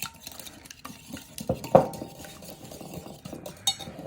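A utensil stirs mocha chip scone ingredients in a mixing bowl, giving soft scraping and occasional clinks against the side, quiet and close with a few sharper knocks.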